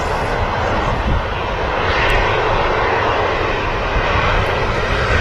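Ryanair airliner engines roaring at Manchester Airport runway as reverse thrust retracts, a loud steady broadband jet rumble and whine sustained throughout without pause.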